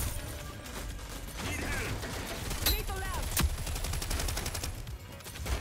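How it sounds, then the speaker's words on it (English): Grenade explosions in the shooter game Rogue Company sound as repeated bangs and blasts amid steady gunfire and clattering game action, loud and busy throughout, with some voice chat underneath. "Oh my god, there's so many nades."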